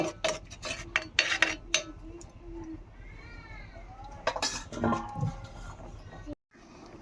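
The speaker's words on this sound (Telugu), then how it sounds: "ఇప్పుడు మూత పెట్టేసుకొని కొంచెంసేపు పెట్టేసుకోవాలి" A metal lid clatters onto a cooking pot of simmering beef curry, giving several sharp, close clanks among scattered kitchen clinks, with a faint whining sound partway through.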